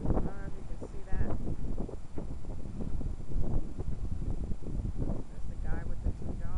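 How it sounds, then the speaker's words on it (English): Strong wind at Ocean Beach, California buffets the microphone with a constant low rumble and gusts, while a voice talks over it. "It's really windy out here."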